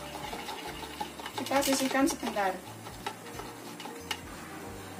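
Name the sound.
rattling noise from pot steaming sweet potatoes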